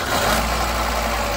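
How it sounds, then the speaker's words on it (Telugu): A 2008 Hyundai Santro Xing petrol car engine running at a steady idle, a constant low hum heard close up without any voices. "నేను మీకు ఒకసారి ఇంజిన్ కూడా స్టార్ట్ చేసి చూపిస్తాను"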